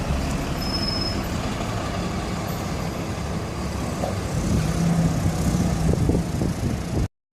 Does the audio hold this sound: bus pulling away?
yes